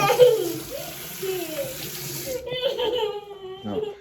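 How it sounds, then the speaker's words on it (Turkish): A tap runs into a sink at home, a steady splashing rush that stops partway through, while a child and an adult talk over it. "suyu boşa akıtıyoruz"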